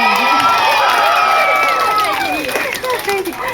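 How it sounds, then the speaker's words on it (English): A bookstore crowd at a Borders author talk in Fairfax, Virginia, bursts into applause and cheering with whoops and shouts, loud and close, fading slightly toward the end. "How nice to get applause just for having a name."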